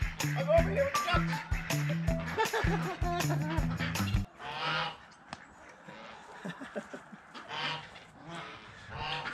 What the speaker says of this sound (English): I'm over here with the ducks.